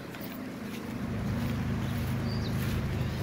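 Distant freeway traffic makes a steady low rumble that holds through the whole stretch, with light wind noise over the microphone and no voices.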